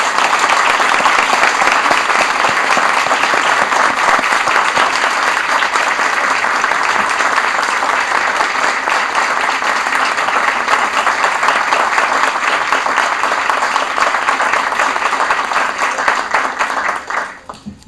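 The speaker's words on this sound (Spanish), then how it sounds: "Vamos a darle un aplauso." A large audience gives sustained, loud applause for journalists during a Venezuelan attorney general's public statement, the dense clapping holding steady for many seconds before tapering off at the end.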